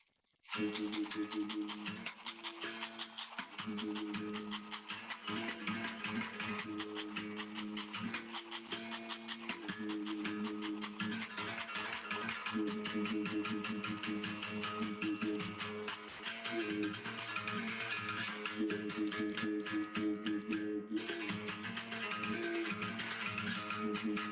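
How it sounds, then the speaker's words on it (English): A berimbau played in Brazilian style beats a steady, driving rhythm of rapid twangy strikes with buzzing overtones, continuing loud and alone for the whole stretch. "when you play the berimbau in the Brazilian way, it sounds like this."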